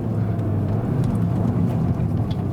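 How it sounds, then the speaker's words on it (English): Seat Leon Cupra R ST AWD, a 300-horsepower all-wheel-drive compact wagon, driving on a track, heard from on board as a steady low engine and road drone running without a break. "300 horsepower right there, delivered, and of course the all-wheel drive helps me to deliver it somewhat to the ground."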